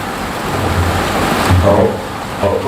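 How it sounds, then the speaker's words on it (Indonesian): A steady downpour of rain with low thunder rumbling underneath, a dense continuous hiss that swells slightly midway and again near the end. "jadi air hujan itu kalau ada hujan kayak gini dikumpulin"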